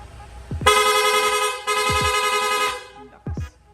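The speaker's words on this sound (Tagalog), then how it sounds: "Nag-install din tayo ng rapid horn." Two loud, sustained blasts of a rapid horn on a Honda Click 125 v3 scooter, a dense rattling multi-tone honk, followed by a short third toot; faint low rumble underneath.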